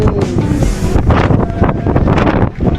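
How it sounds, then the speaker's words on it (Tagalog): Loud, gusting wind at the Shibuya Sky rooftop in Tokyo buffets the microphone in a constant roar throughout, surging and rumbling without pause. "Mahangin!"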